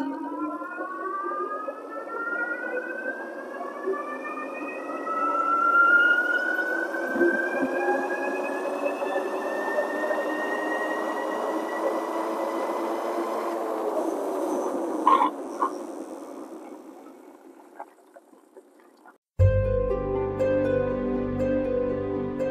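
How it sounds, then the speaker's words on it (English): Super73 RX e-bike on a 72 volt setup with its stock motor, a rising electric whine that climbs steadily in pitch during a long pull without pedaling, then cuts off abruptly, followed by a brief burst of louder wind or handling noise. "Test, no pedaling, 72 volt stock RX motor."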